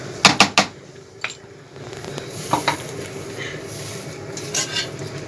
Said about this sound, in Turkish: Evet karıştırıyoruz. Yoğurdu karıştır.